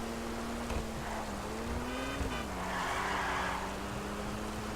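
Overflod Entity XXR supercar driving through rain in GTA Online, a steady engine drone with a shifting pitch, brief tire skids and a wet road hiss throughout, no speech.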